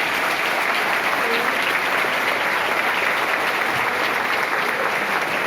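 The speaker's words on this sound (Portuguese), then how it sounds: "Uma salva de palmas para o jovem" Steady, dense applause from a church congregation for a young man during the 73rd Festa de São Sebastião in Natal, RN, loud and unbroken from start to finish.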